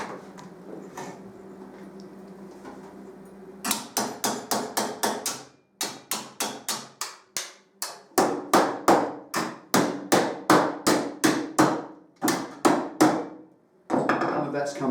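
A hammer tests a weld on metal with a good whack: a low workshop hum gives way to a long run of rapid, sharp, evenly spaced hammer blows that pause briefly and resume, loud and close.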